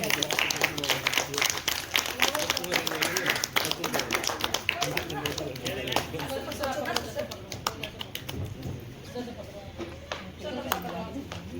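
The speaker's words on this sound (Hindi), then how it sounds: "जोरदार तालियां बजाइए" Guests at a retirement party clap loudly to welcome the honorees, a sustained, crowded patter of hands with sharp individual claps. A host keeps talking over it the whole time.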